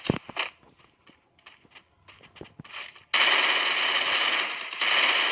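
Gunfire in the Free Fire mobile battle game, a few sharp single shots spaced irregularly, followed by a sudden loud, steady wash of game noise.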